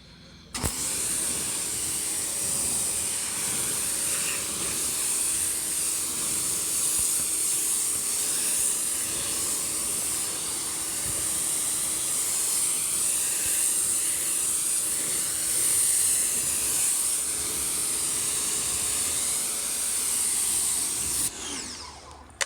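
A pressurized water spray rinses a car's paint during decontamination, giving a loud, continuous hiss that starts abruptly, holds steady for about twenty seconds, then cuts off.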